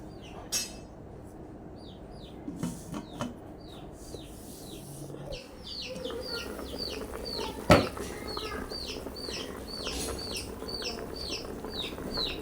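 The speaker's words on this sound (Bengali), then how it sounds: "মুরগির বাচ্চা দুইটা অনেক চুচু করতেছে" Two small chicken chicks cheep in quick repeated high peeps, fairly close, over a quiet home background with a few faint clinks and thumps.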